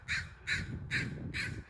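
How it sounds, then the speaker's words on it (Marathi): Four loud, evenly spaced crow caws ring out close by, each a short harsh call about half a second apart, over a low rumble of outdoor background noise near blossoming trees. "कावळ्यांचा आवाज येतोय ना."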